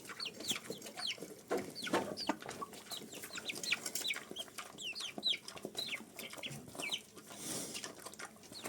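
Chickens cluck repeatedly in short, lively bursts, with several birds close by and some scratching or rustling underneath, no talking.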